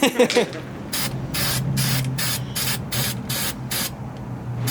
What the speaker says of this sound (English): We've got the weld-through primer on the axle, down here on the unibody of the Jeep